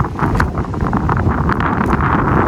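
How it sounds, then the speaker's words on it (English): Wind blowing hard across the microphone on a small boat under sail, a loud continuous rumbling buffet with gusty surges and no one talking. "Come on, wind."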